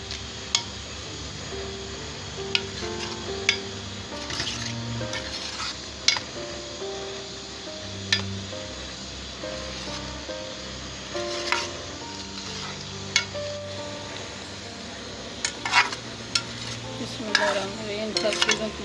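Spices including cumin, ajwain and fenugreek seeds fry in oil in a pan, a continuous close sizzle broken by repeated sharp clinks and scrapes of a spoon stirring against the metal, with no talk.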